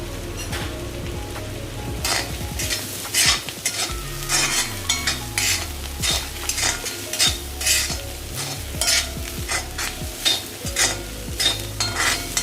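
Onions fry in a pan with turmeric powder for a beef fry dish. A spoon scrapes and stirs in quick repeated strokes over a continuous crackling sizzle, heard up close with no talking.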